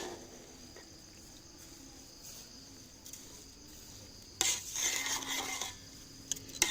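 A spoon scrapes and stirs rava kesari with sugar, cloves and cardamom in a pan, a faint, quiet scraping that starts partway through and keeps going in short, uneven strokes.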